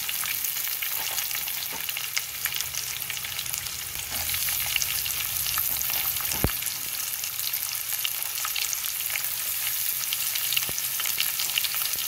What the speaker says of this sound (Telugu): ఒక స్టవ్ మీద కడాయి పెట్టుకొని తిరగమాత వేసుకొని అందులో ఉల్లిపాయ పచ్చిమిరపకాయ వేసుకుందాం